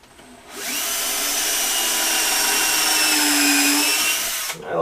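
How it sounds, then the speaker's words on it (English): A power drill bores a pilot hole in a wooden French cleat panel, one steady high whine running about four seconds at close range and then cutting off. "Okay, now it's just a matter of putting some screws in. Start with a pilot hole."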